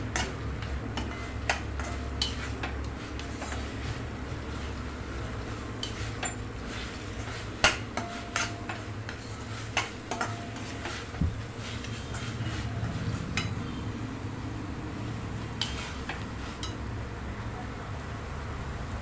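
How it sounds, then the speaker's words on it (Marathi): A coconut and pineapple mixture for barfi is stirred and sautéed in a pan, giving soft steady scraping with scattered light clinks and ticks of a utensil against the metal, fairly quiet and continuous throughout. "सगळे असं छान परतून घ्यायचं आहे"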